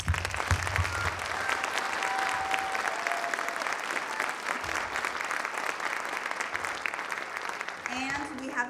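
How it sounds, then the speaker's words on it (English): Audience applause at a high school spring choral concert, a sustained dense clapping that fills the hall and holds steady throughout, with faint talk briefly audible underneath. "we just like to give her a round of applause"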